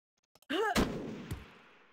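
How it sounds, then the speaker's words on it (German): A gunshot in the tactical video game Jagged Alliance 2 cracks out sharply just after a short in-game voice cue, followed by a fainter second report and a fading echo. "setze einen Schuss ab"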